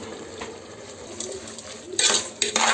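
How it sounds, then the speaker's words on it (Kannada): A spoon scrapes and clanks in a pot, mixing vegetable pulao with salt, masala and soybean, ending in a few louder metallic scrapes. "ಚೆನ್ನಾಗಿ ಕಲಸಿ ಉಪ್ಪು, ಮಸಾಲೆ, ತರಕಾರಿ, ಸೋಯಾಬೀನು ಏನೇನು ಹಾಕಿದ್ದೀವಿ ಎಲ್ಲವೇ ಮಿಕ್ಸ್ ಆಗಬೇಕು"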